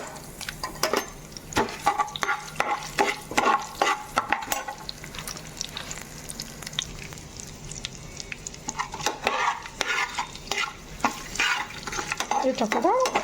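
Dried red chillies fry in a pan with the crackle of hot oil. Repeated close clatters of a spoon stirring against the metal are mixed with a soft sizzle.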